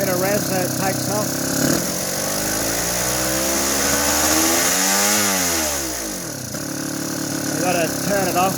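A 1990 Suzuki RGV 250 VJ22 two-stroke motorcycle engine with a suspected crankcase seal fault revs up and falls back, the pitch sweeping high then dropping toward a rough idle, loud and close.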